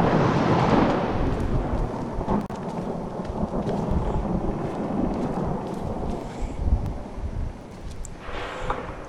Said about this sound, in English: Oh God, lightning. Give me more lightning. Have a thunder with it.